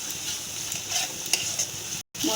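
Yogurt-laced spice paste for Bengali-style jackfruit kofta fries in a pan with a steady, close sizzle, stirred now and then with soft scraping, cutting out abruptly for a moment near the end before resuming.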